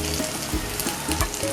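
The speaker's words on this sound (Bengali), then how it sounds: "পেঁয়াজগুলো একটু ভাজা ভাজা হয়ে গেলে এর মধ্যে আমি আদা আর কাঁচা লঙ্কার পেস্টটা দিয়ে দেবো।" Ginger and green chili paste frying with onions in a pan, a dense close sizzle broken by rhythmic stirring scrapes about twice a second.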